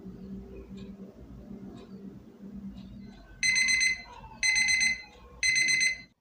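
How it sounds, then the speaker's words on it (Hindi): An alarm clock set for 3 AM rings in three loud, evenly spaced electronic beeping bursts after a quieter stretch of room noise. "रात के 3 का मैंने अलार्म लगाया था, वो भी बोल चुका है"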